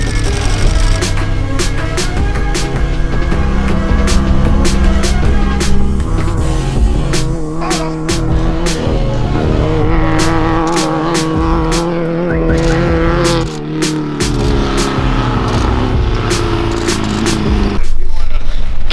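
A desert race car roars past at an off-road race, its engine note climbing and falling loudly with sharp gear changes and crackles, while people talk nearby.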